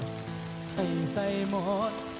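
Rain falls steadily as a soft, constant hiss on a rainy day of cooking eel soup, with music and a voice singing over it.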